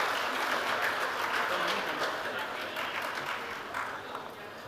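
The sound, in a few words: audience applause for Mr. Manish Malhotra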